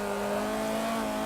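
A race car engine in Forza 7 holds a steady, loud, sustained drone, a continuous mechanical note with no clear tire squeal.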